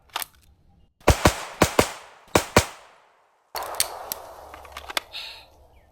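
Sharp, close gunshots crack out during pistol and rifle shooting drills with a Staccato XC pistol and a suppressed LWRC A5 SBR rifle, a quick burst of four or five shots, a pause, then a rapid string of further shots.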